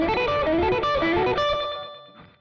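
A distorted electric guitar plays a quick riff, with the final notes repeating and fading away in echoing delay.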